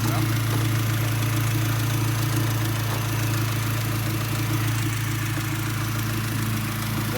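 Loud, rough Honda engine idling with its muffler cut off, a deep constant rumble and raspy exhaust drone, steady throughout with no talking.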